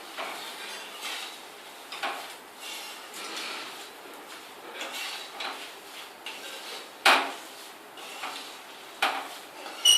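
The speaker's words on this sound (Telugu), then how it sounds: "మురుమరాలు అన్నీ వేసి కలపాలి. ఇలా బాగా కలుపుకోవాలి." Puffed rice and flattened rice tossed and stirred in a pan, a dry rustling scrape with a few sharper metallic knocks of the spoon against the pan, close and steady with no talking.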